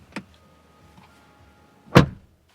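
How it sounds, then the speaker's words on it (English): Two thuds from the doors of a 2026 Mercedes GLB Electric, a faint soft one first and then a louder, solid slam about two seconds later, in a quiet setting. "The sound of the doors is really solid."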